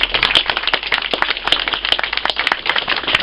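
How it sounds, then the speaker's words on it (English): A crowd gathered at an outdoor blue plaque unveiling gives a round of applause, individual claps distinctly audible and fairly close, irregular and lively for a few seconds. "the funders deserve a round of applause"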